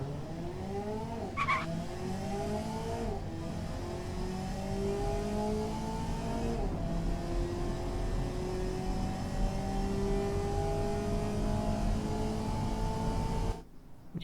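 A 1970 Marina Spark MkIII sports car in the Automation game accelerating hard through the gears. The engine note climbs steadily with distinct shift dips, loud and close throughout, ending with a sudden cut.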